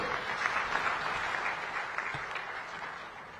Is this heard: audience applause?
yes